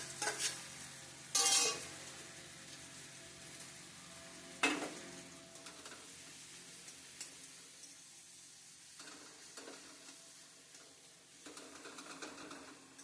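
Potatoes fry with green chillies in a pan and are stirred, giving a faint, steady sizzle with a couple of sharp scraping clatters. Gentle background music plays underneath.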